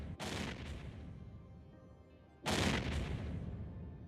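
Missile fire in the space game Eve Online, during an alliance tournament battle: two heavy booming volleys, the first at the start and a louder one midway, each trailing into a long rumbling roar.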